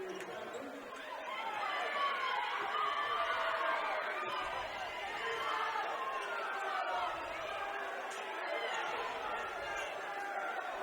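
A high school boys' basketball crowd in Nashville chatters and murmurs in a gym, with an excited buzz of many voices and sneaker squeaks on the court.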